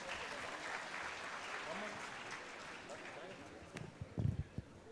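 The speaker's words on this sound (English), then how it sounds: "A round of applause, ladies and gentlemen." A conference audience at a student inaugural session applauds in a dense, continuous wash of clapping that stays fairly even, heard from within the hall, with a few louder thumps near the end.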